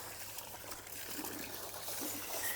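Water pours steadily while dirt is rinsed out of a filter catcher, a soft, even trickling rush that holds at a constant level throughout.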